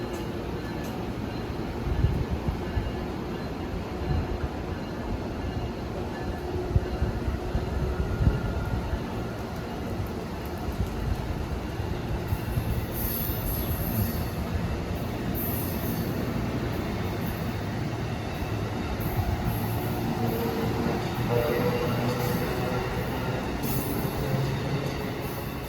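An Amtrak passenger train on a Virginia to New England run rolls past on a Boston-area line with a long, steady rumble of wheels on rails. Faint squeals and rattles rise toward the end, with no talk.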